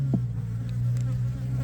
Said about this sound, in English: The bees like flying in my face here.